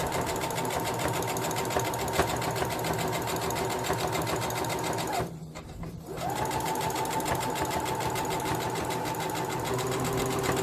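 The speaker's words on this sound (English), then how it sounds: "I'm going to continue sewing." A sewing machine stitches a pillow in a steady, close, rapid mechanical hum, stopping briefly for about a second midway before running on evenly.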